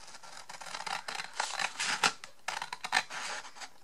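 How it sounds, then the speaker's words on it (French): Scissors snipping through folded paper for a scrapbooking gift pouch, a series of close, crisp cuts and rustles that come in uneven bursts, with a few sharper snips standing out. "Alors, on prend le ciseau."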